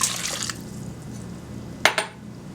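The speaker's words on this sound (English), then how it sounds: "We're going to add the water" Water is poured over ground ingredients for a vegan eggplant filling, a soft steady liquid trickle near the mic, ending in a couple of sharp clinks of glass or container.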